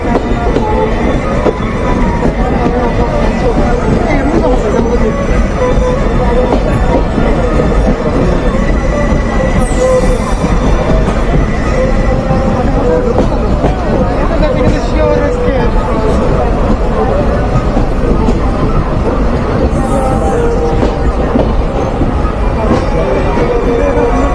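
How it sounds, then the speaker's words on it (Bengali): Kapotakkho Express train pulling late into the crowded Alamdanga railway station in Chuadanga, Bangladesh: a continuous close rumble of rolling railcars with occasional wheel squeal, under steady crowd chatter. "আলমডাঙ্গা রেলওয়ে স্টেশনে প্রবেশ করছে কবতাক্ষ এক্সপ্রেস ট্রেন"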